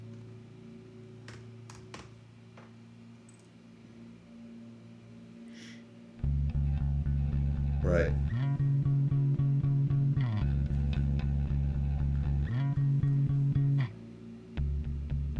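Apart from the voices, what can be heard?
muted bass guitar part in a song mix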